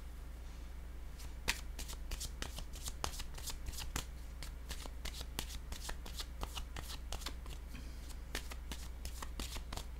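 Playing cards being handled and shuffled up close during a card reading, a steady run of quick crisp flicks and snaps with no talk, quiet overall.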